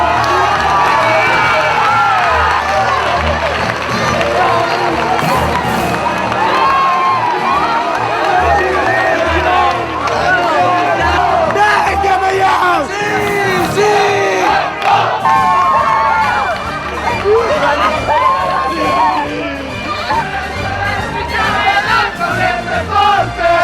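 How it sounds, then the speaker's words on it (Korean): A large crowd roars and cheers continuously in the town square for the winners of the Palio horse race in Italy, with loud shouts and whoops rising out of a dense, sustained wall of voices. "광장은 우승팀의 눈물과 함성으로 가득 찹니다."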